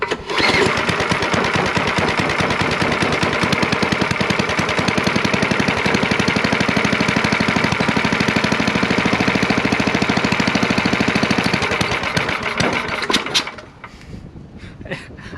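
A Simplicity snow blower engine, recently worked on at the carburetor, rattles loudly and close after a pull start, running with a rapid chattering beat for about thirteen seconds before cutting off abruptly into quiet.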